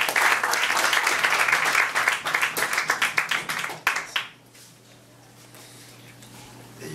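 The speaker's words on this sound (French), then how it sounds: "On l'applaudit encore une fois" An audience applauds at an anniversary evening event, a dense burst of clapping for about four seconds that then stops abruptly, leaving quiet room tone.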